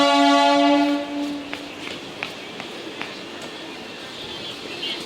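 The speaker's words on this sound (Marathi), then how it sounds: "ट्रेन आली आहे, फटाफट जावं लागेल." A local train at Thane railway station sounds a loud, sustained horn for about a second and a half, followed by steady rail rumble with scattered metallic clicks and faint station voices.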